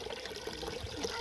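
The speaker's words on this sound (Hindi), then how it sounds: "साफ़ शफाफ पानी इसका, जो कि यहाँ बहता हुआ इस दरख्त को भी ये पानी फराहम करेगा" Water gushes from a hand pump in a dry desert area, a faint, steady splashing flow with no voices over it.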